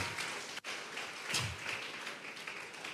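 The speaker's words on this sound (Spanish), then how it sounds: "Vamos a regalarle ofrenda de palmas al Dios de la gloria" Church congregation clapping together at a Sunday service, quiet and somewhat distant, a sustained patter of many hands with a brief dropout early on.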